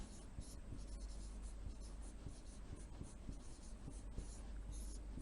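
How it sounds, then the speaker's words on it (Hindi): Pen or pencil writing down an amount during a class 4 maths lesson, a faint continuous scratchy scribble of short strokes against a quiet background hiss. "जहीर के पास जो पहले से धनराशि थी वो लिख देंगे।"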